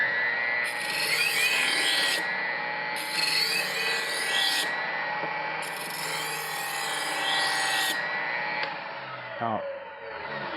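Knife sharpening machine grinding a new bevel on a blade under light down pressure, a steady abrasive rasp with several bursts of brighter hissing grind close up, ending in a short clatter.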